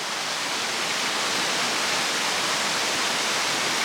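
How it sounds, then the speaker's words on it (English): Water pours steadily from a leaky wooden trough into a tall column at a mountain farm mill, a constant dense rushing splash with no pauses. "water pours from the trough into a tall column"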